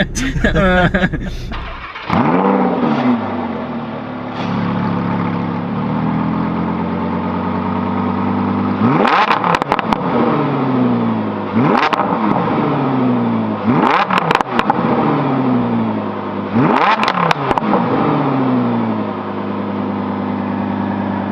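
McLaren 720S engine accelerating hard in repeated bursts, each rising surge of revs dropping back before the next, loud and close, with speech at times over the engine noise.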